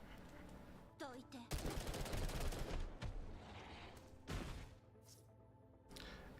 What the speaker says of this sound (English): next time would you mind warning us before you start shooting?